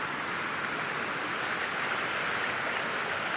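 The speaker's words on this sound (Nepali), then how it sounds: "खोला त यस्तो छ" A Himalayan mountain river rushes steadily nearby, a dense, even roar of flowing water with no breaks or other sounds over it.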